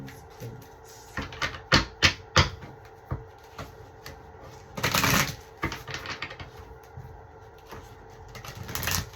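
Tarot cards being shuffled close by, a series of sharp riffling clicks and flutters in bursts, with a longer riffle in the middle.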